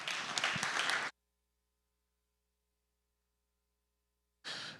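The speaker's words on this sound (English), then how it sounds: "let's give a big welcome and round of applause to Dylan Hughes." Audience applause greets a speaker taking the stage at a conference, a dense burst of clapping for about a second before cutting to silence, then returning briefly at the end.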